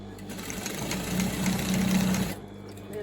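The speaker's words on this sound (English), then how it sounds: "now let me get this hook stitched in place." A sewing machine stitches a hook onto a large shopping bag in a short, steady whirring burst lasting about a second and a half, close and fairly loud, then stops abruptly.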